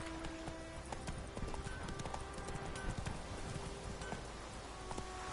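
Hooves of Roach, a horse in the video game Witcher 3, clip-clop steadily at a trot over a busy game soundscape with a faint patter like rain, continuous and moderately loud throughout.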